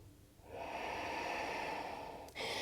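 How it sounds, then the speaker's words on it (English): A single long, audible breath taken during a standing yoga balance rushes steadily through the nose or mouth close up, followed by the sharp start of another inhale, with no speech. "Let's take another breath here."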